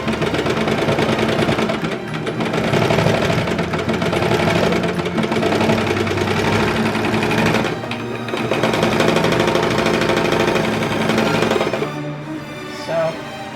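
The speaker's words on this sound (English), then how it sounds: "I'm going to do the whole thing on the serger and the cover stitch machine." Serger stitching a kids' raglan T-shirt, a fast continuous mechanical whir with short pauses between seams, close and fairly loud.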